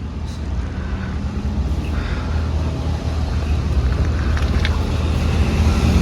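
Heavy road traffic on the mountain route to Poombarai near Kodaikanal makes a continuous, close rumble of engines and tyres that grows slightly louder toward the end.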